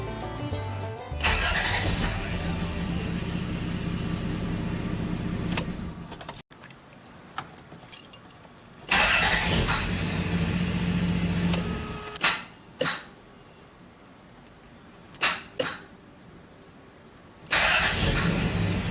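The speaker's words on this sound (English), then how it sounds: "This is my beautiful 1994 Toyota pickup, and I think the starter's bad." Starter of a 1994 Toyota pickup with a faulty starter, cranking in several separate close attempts: a long first crank, then shorter bursts and brief clicks between quiet gaps, with the engine catching and running at the end.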